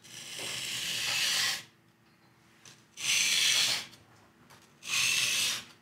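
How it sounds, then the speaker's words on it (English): A kitchen knife is pushed across a sharpening stone under pressure in three separate strokes. Each stroke is a close, steady abrasive rasp lasting a second or more, with short quiet pauses between. "we're gonna start closest to us on the stone here, and we're going to apply pressure as we push the knife away from ourselves."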